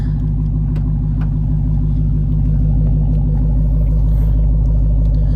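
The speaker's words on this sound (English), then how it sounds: "Listen to that exhaust note" A 2023 Dodge Challenger Hellcat Jailbreak burbles through its dual exhaust at idle, a deep, heavy, loud rumble heard close up and steady throughout.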